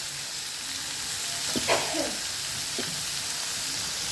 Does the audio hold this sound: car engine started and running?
no